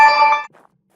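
A short bright chime with ringing metallic overtones sounds once for about half a second: a phone message notification in the Occupy Mars video game. It is fairly loud and alone, then cuts to near silence.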